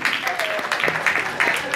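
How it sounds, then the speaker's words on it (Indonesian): Applause from an audience for the cast of a school stage play of Si Tanggang, a short burst of clapping heard close and fairly loud. "Tepukan untuk semua pelakon-pelakon Si Tanggang."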